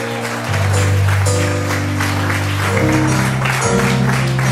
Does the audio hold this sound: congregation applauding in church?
yes